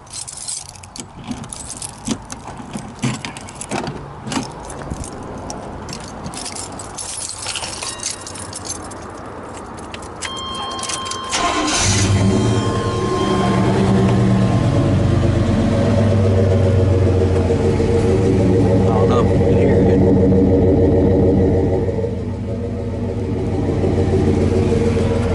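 A 4x4 fitted with a new dual exhaust starts up after some handling noise and keys jangling, then settles into a loud, steady, deep engine rumble with slight swells for the rest of the stretch.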